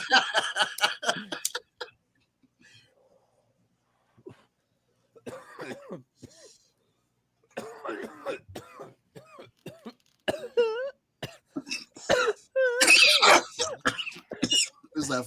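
A person coughs in a few harsh bursts, then clears the throat. Close talk and laughter follow in a quiet room.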